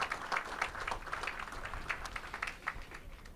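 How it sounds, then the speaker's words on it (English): Scattered outdoor applause at a statue unveiling and dedication ceremony in New York City, a modest crowd clapping faintly and unevenly with distinct individual claps. "please, a round of applause for making that happen"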